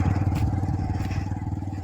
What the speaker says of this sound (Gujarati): બાઇક આપણે આગળ નીકળી ગયો।